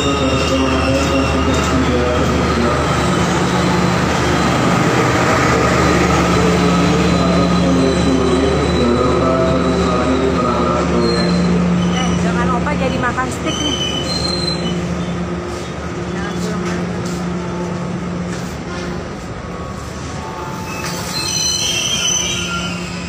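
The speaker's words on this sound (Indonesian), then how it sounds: "datang kereta api Serayu dari Purwokerto" Serayu economy passenger train arriving from Purwokerto, loud and close, with rumbling railcars and sustained screeching wheel squeal that eases off toward the end, under faint background voices.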